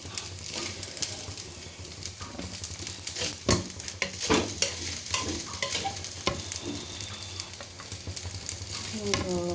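Fried rice being stirred and fried in a pan, with steady sizzling and repeated scraping strokes of a spoon against the metal throughout, close and fairly loud.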